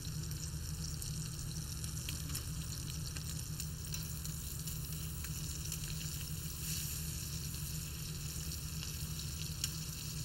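Meat fries in a pan with a steady, even sizzle and crackle, faint and constant throughout with a low hum underneath, and no talking.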